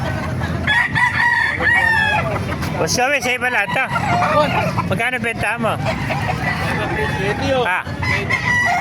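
Roosters crow repeatedly in a busy yard at a chicken market in Calumpit, Bulacan, with clucking hens around them, while people talk nearby.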